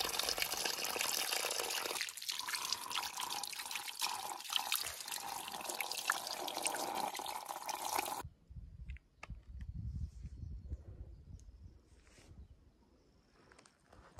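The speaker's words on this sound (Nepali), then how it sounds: "यहाँ चाहिँ धारा रहेछ। म पानी खाएर जान्छु।" Water runs from a village tap in the Nepali hills, a steady close gush that cuts off partway, leaving faint drips and quiet outdoor ambience.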